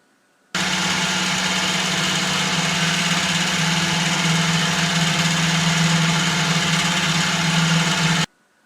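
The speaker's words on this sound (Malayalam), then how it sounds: "ഇനി നമുക്ക് 4 മുട്ടയെ ബീറ്റ് ചെയ്തെടുക്കാം." An electric beater whips four eggs with a loud, steady motor buzz that starts abruptly, holds unchanged for several seconds close up, and cuts off sharply, with no talking.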